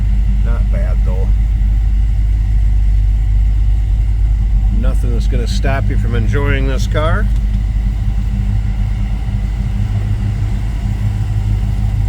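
The engine of a 1971 Ford Mustang Grande runs at a steady, low, rumbling idle throughout, while someone talks over it in the middle.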